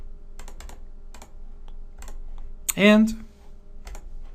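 Light keyboard typing on a computer comes through as scattered, soft key taps, broken by a brief louder tonal sound in the middle.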